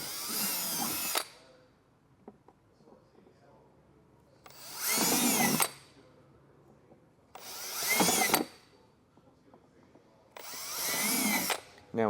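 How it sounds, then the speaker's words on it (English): A power drill bores through the wall of an enclosed trailer in four loud bursts of whining, grinding noise, each lasting about a second, with quiet pauses between them. "that'll give us our points to drill all the way through"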